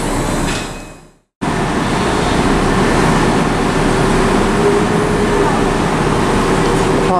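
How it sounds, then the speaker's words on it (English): A train pulls out of Birmingham Snow Hill station, a sudden cut to steady loud rumbling, rolling engine and track noise that holds evenly to the end. "Departing is the 1113 service from Dorwich to Worcester Fallgate Street"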